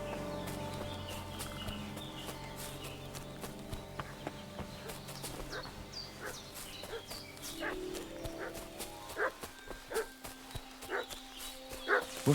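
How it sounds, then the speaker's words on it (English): A dog barks in the medieval RPG Kingdom Come: Deliverance 2, a run of loud, repeated yelps over a busy music-and-ambience bed, growing sharper and more insistent toward the end. "What's that dog making such a fuss about?"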